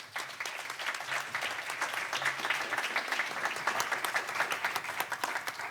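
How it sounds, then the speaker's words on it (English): Steady audience applause at a panel discussion on Afro-European relations: dense, even clapping from a seated crowd that holds at a constant level for several seconds, with no voices over it. "so let's give him a big round of applause too."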